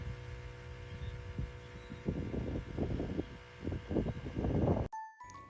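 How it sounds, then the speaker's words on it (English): A pump in a Rivian vehicle running as a low, faint, throbbing hum with uneven pulsing surges for several seconds, followed by a short click and a brief tonal ding as it stops. "you can hear the noises from the background, and that means it started to pump"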